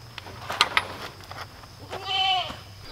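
A goat doe bleats during a farm handling session for breeding season, with a couple of short bleats early on and a longer, wavering bleat near the end, close by amid quiet background noise.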